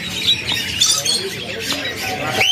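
A Sumatran crested toksai bird squawks repeatedly in a busy bird-market shop, with sharp shrill calls scattered across a few seconds amid background chatter and people talking nearby.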